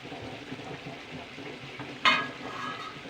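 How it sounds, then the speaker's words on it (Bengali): Green peas go into chicken curry in a wok with a sudden loud hiss that swells into steady sizzling, preceded by a softer simmer and stirring. "এবার আমি ধুয়ে রাখা কড়াইশুটিগুলো এবার আমি দিয়ে দেবো"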